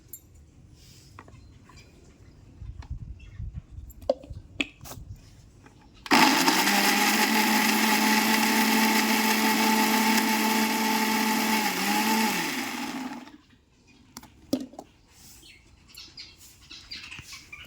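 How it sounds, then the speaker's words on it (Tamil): An electric mixer grinder whirs loudly for about seven seconds, grinding dried chillies, tamarind and salt for tomato pickle, then winds down, with quiet kitchen clatter before and after. "புளி உப்பு இதையும் போட்டு நம்ம மிக்சியில் அரைச்சிக்கலாம்"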